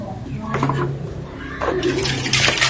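Boiled water from a third boil is drained off wild bitter mushrooms, heard as rushing, splashing pours in two bursts with a short lull between them, close by.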